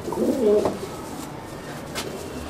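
Pigeons at the Kila Raipur club give a short, fairly close burst of cooing near the start, then fade into quieter background murmurs.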